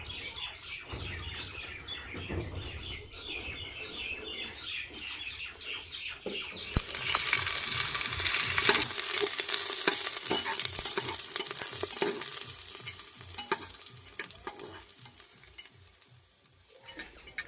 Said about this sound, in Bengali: এর মধ্যে আমি দিয়ে দেব এখন রসুন কুচিগুলো